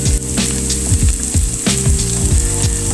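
Onion paste and whole green chilies sizzle loudly in hot oil for mustard hilsa, a dense close crackle punctuated by regular low knocks and scrapes of stirring.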